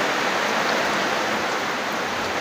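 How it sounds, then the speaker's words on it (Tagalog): Heavy rain pouring down in strong wind, a loud, dense, continuous hiss of rainfall heard close and unbroken throughout. "Sobrang lakas nung ulan."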